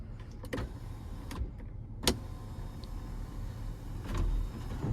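Power skylight on a 2024 Honda Odyssey Sport whirring closed inside the cabin while it rains, a steady motor hum with a few soft clicks and thumps, fairly faint against the rain and interior background.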